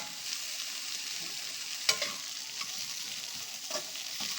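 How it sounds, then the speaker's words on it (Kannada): Coriander leaves and grated coconut are sautéed in a hot pan with the stove just switched off, a soft continuous sizzle with a few light scraping stirs, close and fairly quiet. "ಸ್ಟವ್ ಆಫ್ ಮಾಡಿಬಿಟ್ಟು ಕೊತ್ತಂಬರಿ ಸೊಪ್ಪು, ತೆಂಗಿನಕಾಯಿ ಹಾಕ್ಬಿಟ್ಟು ಇದರಲ್ಲೇ ಬಾಡಿಸ್ಕೊಂಡ್ಬಿಡ್ತೀನಿ"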